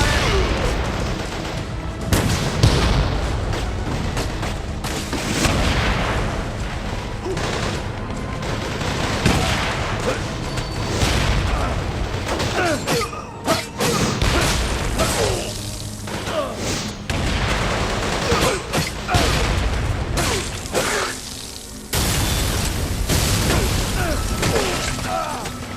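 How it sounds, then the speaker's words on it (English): Heavy gunfire in a combat scene, dense continuous bursts of rifle and machine-gun fire with booms and crashes layered over one another, loud and unrelenting, with occasional shouted voices beneath. "Enemy fire is too heavy."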